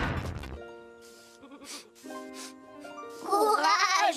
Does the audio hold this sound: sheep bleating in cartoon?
yes